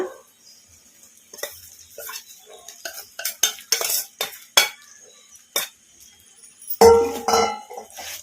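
A spoon scrapes and clinks against a pan while stirring cooked rice into a carom-seed tempering, in a series of irregular strokes, with a louder clatter near the end and no talking.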